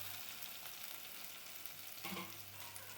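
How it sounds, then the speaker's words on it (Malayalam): Chopped onion, ginger and split green chilies sizzle in hot coconut oil, a soft, steady frying hiss with a slight stir partway through, heard alone without talk. "വെളിച്ചെണ്ണ ചൂടാവുമ്പോൾ ഉള്ളി അരിഞ്ഞത്, ഇഞ്ചി, പച്ചമുളക് കീറിയത്"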